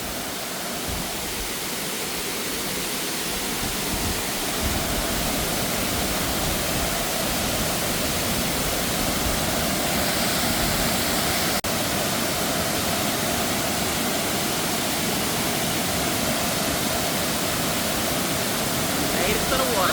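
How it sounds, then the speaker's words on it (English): Waterfall at Old Mill Park in Roswell, Georgia, pouring in a steady, dense broadband rush that stays loud and unbroken throughout, with no pauses or distinct events. "We made it to the waterfall."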